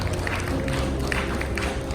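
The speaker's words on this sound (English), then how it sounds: "A round of applause, please" An audience at an engineers' conferment ceremony applauds steadily, a dense even patter of clapping from a crowd that holds for the whole moment, with a faint murmur under it.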